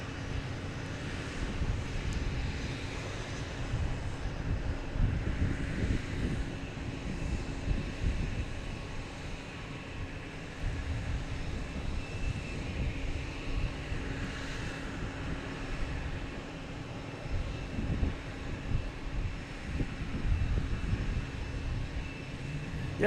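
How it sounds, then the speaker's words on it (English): A JetBlue Airbus A320 heads out on takeoff at Boston Logan Airport, a faint, distant rumbling jet roar that swells and fades gently under outdoor wind noise. "We have JetBlue and A320 heading to Aruba"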